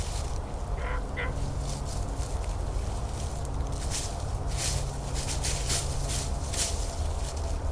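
Clucks from a turkey mouth call, a voice imitating a turkey, repeat in short bursts while someone walks through the woods, over steady background noise.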